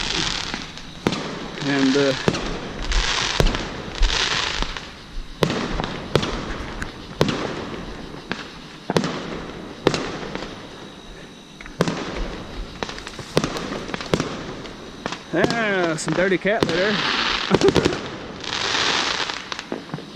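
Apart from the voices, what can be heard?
Fourth of July fireworks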